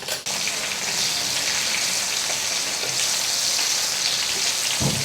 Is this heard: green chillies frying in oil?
yes